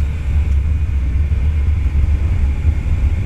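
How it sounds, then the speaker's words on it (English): A Can-Am Spyder F3 three-wheeled motorcycle engine roars steadily during a burnout of its rear tire, a loud, deep, continuous rumble heard up close with no pauses and no talk. "Burn that rear tire off"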